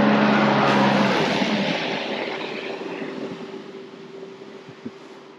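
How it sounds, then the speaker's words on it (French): A small motorboat engine hums as it passes, fading gradually into the distance amid light wind noise. "on a un petit bateau qui passe"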